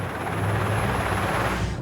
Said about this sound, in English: I can hear the blades of a helicopter